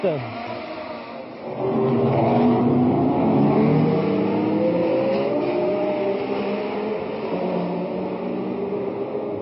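Formula 1 race cars at the 1967 Monaco Grand Prix, engines rising and sweeping past at close range, loud and continuous after a quieter opening, with a commentator talking over them throughout.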